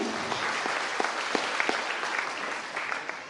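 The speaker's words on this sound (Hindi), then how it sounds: "एक बार जोरदार तालियों से मैं स्वागत करना" An audience at a business celebration claps steadily, with a few sharper individual claps and faint cheering standing out over a dense, continuous patter lasting a few seconds.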